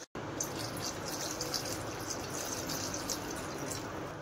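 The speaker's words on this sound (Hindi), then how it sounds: "थोड़ा सा पानी और डाल देते हैं," Water poured into a simmering curry of colocasia (arbi) leaves and urad dal, a steady broadband splash and trickle running continuously for about four seconds at close range with no talk.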